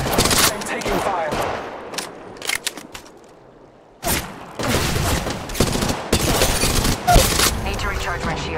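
Gunfire in Apex Legends rattles in dense automatic bursts, drops to a quiet lull, then resumes heavy and close with overlapping shots, mixed with game voice lines.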